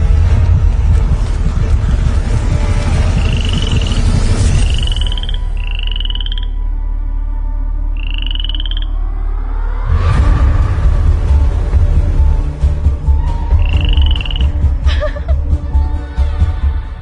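A frog croaks loudly and close by, sounding repeated short rising calls over a low rumbling background that drops away for a few seconds before returning.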